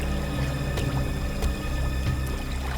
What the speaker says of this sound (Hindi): सर इस तरफ से पानी के बहने की आवाज आ रही है।